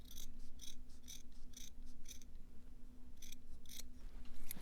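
Scissors trim the cord of a macrame wall hanging in a string of crisp, quick snips, close and distinct over a faint steady hum, in two clusters with a short pause between.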